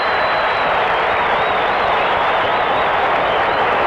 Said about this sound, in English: As they're standing and cheering in Houston